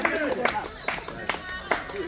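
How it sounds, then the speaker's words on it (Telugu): Scattered claps from a small audience at a retired BSNL staff meet in a Hyderabad hall come as a few sharp, separate bursts at irregular intervals, with voices murmuring in the background. "చప్పట్లు కొట్టాలండి, క్లాస్ కొట్టాలి అందరూ"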